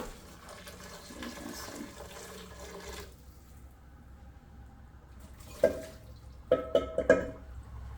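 Liquid poured over food while making Haitian bouillon, heard as a soft wet splash followed by a few quick, faint drips and splatters against a quiet kitchen background.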